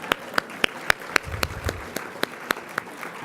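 Scattered audience clapping at a dinner event, a dozen or so sharp, fairly loud claps at an uneven rhythm with a light murmur of room noise underneath.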